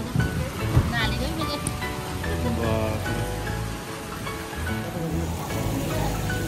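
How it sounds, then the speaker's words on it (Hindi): Heavy rain pours down with water rushing through an open drain, a dense continuous wash heard close under a person speaking. "खतरनाक ही आ रही है बारिश।"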